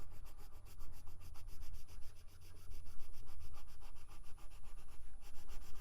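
Close, rhythmic scratching of a colored pencil rubbing back and forth on paper to blend colors, with steady medium-pressure strokes repeating quickly and evenly with no talk.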